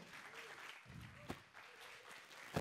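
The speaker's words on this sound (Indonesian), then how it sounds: "Beri tepuk tangan ya teman-teman." Audience applause at a lively public debate event for regional head candidates in Rengasdengklok, moderate clapping rising and falling over a noisy room with some voices, a louder burst near the end.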